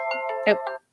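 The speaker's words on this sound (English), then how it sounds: "that's my alarm." A phone alarm rings in a steady electronic tone pattern for about a second, clear and close, then cuts off abruptly.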